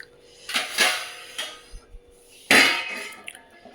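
Kitchen clatter of a stove being switched off and a pot of boiling tea being covered, several sharp metallic knocks and clinks with a louder lid-like clang near the end, close, no talk.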